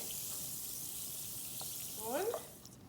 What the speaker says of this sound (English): You can see that it's still bubbling.